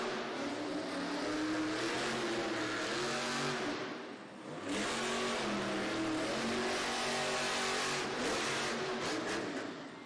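Zombie monster truck's big engine roars and revs hard through a timed Monster Jam arena run in Toledo, loud and close, with a brief dip in the middle before surging again.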